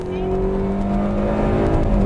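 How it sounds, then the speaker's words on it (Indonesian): A car engine revs hard on an empty straight road, a steady loud drone with rising harmonics that holds near and constant throughout, with no talking over it. "Dan dia juga stabil loh mobil ya. Digeber kayak gini."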